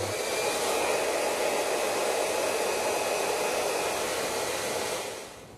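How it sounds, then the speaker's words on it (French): A hair dryer blows steadily on a twisted lock of hair, a continuous close, loud airflow that holds even for about five seconds before easing off at the end. "on met en route le sèche-cheveux"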